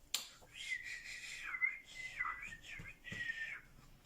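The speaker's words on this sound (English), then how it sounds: "I can whistle through my teeth." Breathy, high whistling through the teeth, a few wavering sustained notes with airy hiss, close and fairly quiet, indoors.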